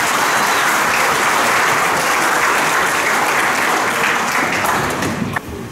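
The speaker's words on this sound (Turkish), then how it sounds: "Alkış yok mu Sayın Ali?" Loud, sustained audience applause fills a documentary gala screening hall, a dense wash of many hands clapping steadily with no one speaking, tapering slightly at the very end.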